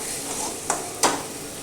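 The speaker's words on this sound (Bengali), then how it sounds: "মশলাটা প্রায় আমার ভাজা ভাজা হয়ে এসছে" Spice paste sizzles steadily in a pan while being fried for a pea and potato dish. Two short clinks of a utensil stirring cut through the hiss, with no talking.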